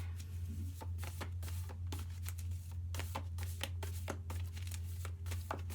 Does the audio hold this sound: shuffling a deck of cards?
yes